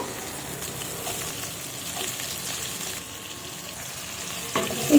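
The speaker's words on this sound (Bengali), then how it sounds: "কুচিয়ে রাখা পেঁয়াজ কুচি আর এই যে টমেটো কুচি আর পেস্ট সমস্ত কিছু দিয়ে দেবো" Chopped onion, tomato and spice paste frying in a pan, a steady close sizzle with light stirring scrapes and a brief louder burst at the end.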